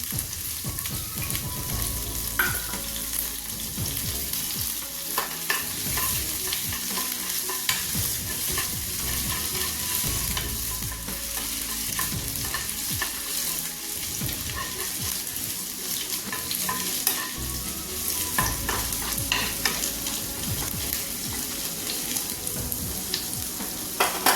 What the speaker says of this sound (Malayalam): ഞാനൊരു ചെറിയ കഷ്ണം ഇഞ്ചി പൊടിതായിട്ട് അരിഞ്ഞത് ഇട്ട് കൊടുക്കുകയാണ് നമ്മൾ നേരത്തെ നെയ്യ് ഒഴിച്ചിട്ടുണ്ട്